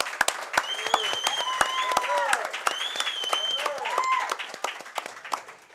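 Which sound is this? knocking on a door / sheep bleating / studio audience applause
studio audience applause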